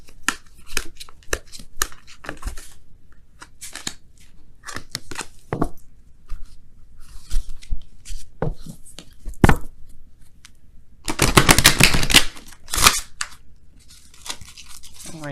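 Repeated crisp riffling and slapping of tarot cards being shuffled, in short irregular bursts, with a longer dense riffle near the end.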